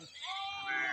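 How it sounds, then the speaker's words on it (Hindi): Sheep in a passing flock led by a shepherd bleat loudly and continuously at close range, several overlapping calls swelling toward the end with no talk. "ये भेड़ें जा रही है जहाँ पर ये लोग रुकेंगे।"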